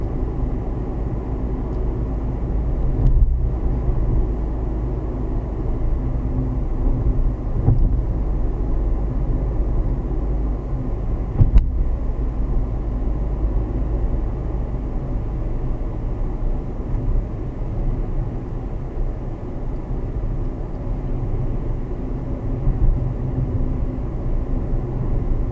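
Steady low rumble of a car driving along a long road near Castlemungret, Limerick, with road and engine noise from inside the cabin that stays constant throughout and has a few faint knocks.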